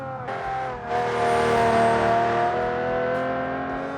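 A supercharged V12 swapped into a BMW Z3 screams at full throttle in a racing game on the Nordschleife, its engine block melting. A loud, sustained high-rev drone swells upward in two steps and holds steady.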